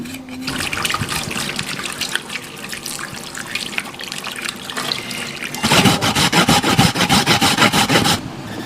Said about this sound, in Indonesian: Setelah ini akan dicuci lalu diparut.